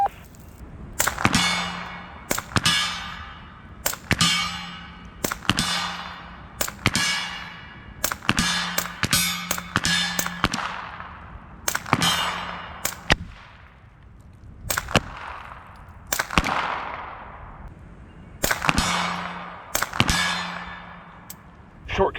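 Suppressed 9mm pistol shots through a GEMTECH Lunar 9 suppressor in long configuration with subsonic ammo: about fifteen sharp, close reports fired in an uneven rhythm, each ending in a brief metallic ring-off.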